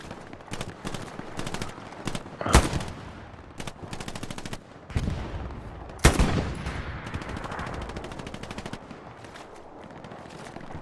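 A Puma armoured car firing in Hell Let Loose, rapid automatic bursts mixed with heavier, booming shots and distant battlefield gunfire, loud and continuous with a couple of sharp louder blasts.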